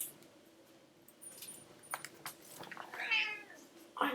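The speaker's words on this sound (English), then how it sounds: "I don't like it when you meow like that." A cat meows indoors, a few short, fairly close cries scattered over quiet room noise, with one sharper call near the end.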